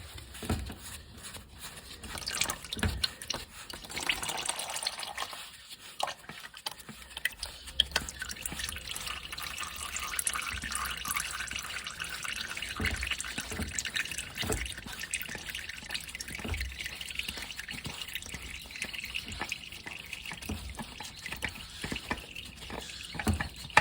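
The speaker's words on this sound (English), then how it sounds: "I'll go ahead and remove it by hand and let the oil drain out of there." Motor oil drips and drains from the filter spot of a 2009 Honda Insight II 1.4 during an oil change, a steady run of close liquid drips and trickling that keeps going alone.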